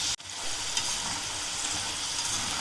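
Potato French fries frying in hot oil, a dense, steady sizzle close by that continues evenly after a brief dip at the start.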